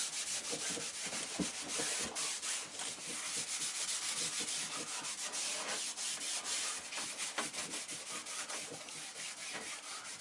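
Cloth wiping surplus finish off an oak wood lamp, a steady close rubbing and scrubbing sound with quick repeated strokes that runs throughout, no talking.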